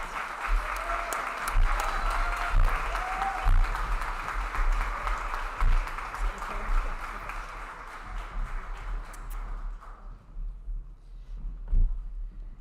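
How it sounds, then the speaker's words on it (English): A reception audience at a Disability Mentoring Day kickoff gives sustained applause for a guest speaker, steady dense clapping that fades out toward the end. "let's give her a big round of applause"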